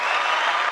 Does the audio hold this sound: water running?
no